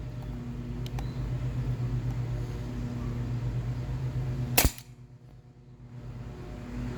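A paintball gun loaded with .43 caliber frozen paintballs fires a single sharp crack at a target, loud and close, standing out over a steady low mechanical hum.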